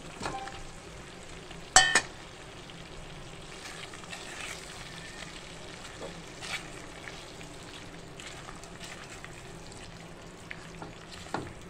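Potatoes sautéing in a spicy green masala sizzle steadily in the pan, broken by soft stirring scrapes and a sharp clatter near the start as they are tossed.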